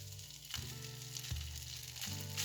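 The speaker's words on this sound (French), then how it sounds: "je vais prendre mon riz que je vais rajouter dans mon wok" Cooked, dry rice tipped into a hot wok over raised heat sizzles and fries steadily, with a few sharp scraping bursts as it lands and shifts, close and continuous with no talking.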